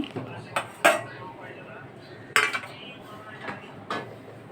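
Metal idli steamer plates clatter and clink in a kitchen, a handful of sharp, separate knocks scattered over a few seconds, with talk in between.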